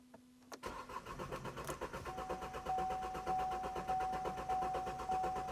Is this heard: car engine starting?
yes